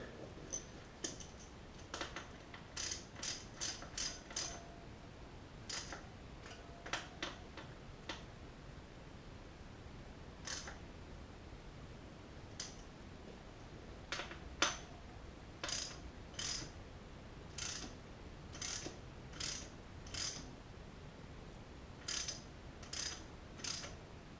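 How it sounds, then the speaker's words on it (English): A wrench ratchets down the valve stem nut on a motocross front tire, giving bursts of crisp, close clicking in uneven runs with short pauses and no talk. "Go ahead and tighten your valve stem nut down."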